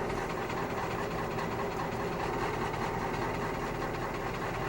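A truck engine in the farming game Farming Simulator 22, straining to pull a harvester, gives a steady, close, unbroken drone with a rough rumbling texture throughout, and no one speaks.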